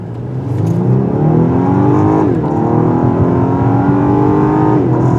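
A 2023 Lexus LS 500 AWD F Sport's turbocharged six-cylinder engine pulls hard under acceleration, its steady drone rising through the gears with brief dips at each shift, loud and continuous throughout.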